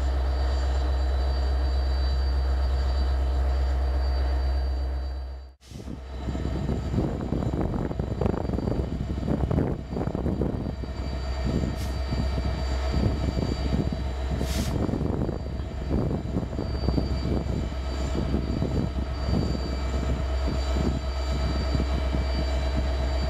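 Indiana Railroad locomotive 9025, powered by EMD 710 diesel engines, gives a deep, loud droning rumble that cuts out briefly and then returns with a rougher, fluctuating engine roar that lasts to the end.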